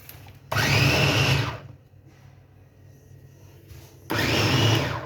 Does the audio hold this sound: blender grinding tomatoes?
yes